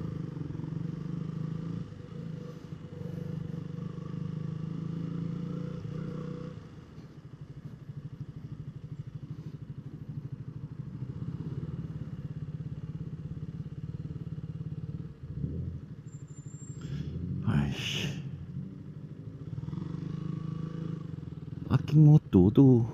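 A KTM Duke 200 motorcycle running at low speed, its engine a steady mid-pitched drone throughout, with brief clatters and a few louder bursts near the end; a voice speaks briefly over it.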